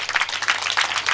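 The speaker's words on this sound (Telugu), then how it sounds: "కొట్టండి చప్పట్లు గట్టిగా, ఇంకా గట్టిగా." An audience at a church sermon applauds, a short burst of brisk, uneven clapping from many hands at moderate loudness.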